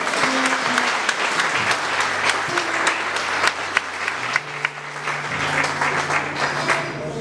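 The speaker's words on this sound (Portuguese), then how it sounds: "Você pode aplaudir Jesus?" Congregation in a church applauding during an anniversary sermon, a loud, dense round of clapping with sharp individual claps standing out, sustained for several seconds while a low tone hums beneath.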